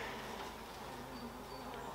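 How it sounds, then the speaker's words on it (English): Honeybees hum steadily at an open hive during a midday inspection while most of the colony is home, a faint, continuous buzzing drone with no talk. "you'll get to see most what it's like to work a beehive when most of them are home instead of foraging"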